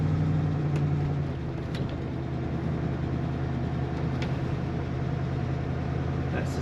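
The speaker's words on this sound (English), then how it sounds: "And there's that exhaust rumble again" A 1978 Ford F-150 Ranger pickup rumbles steadily from its exhaust while driving, a low continuous engine drone heard from inside the cab.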